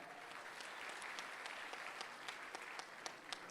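Steady, dense clapping from an audience at a comedy poetry gathering, sustained throughout with sharper individual claps popping out near the end.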